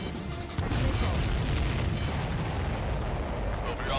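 Heavy booming explosions roll together in a dense, loud, continuous wall of blasts during an Ace Combat 7 air battle, with no clear gaps.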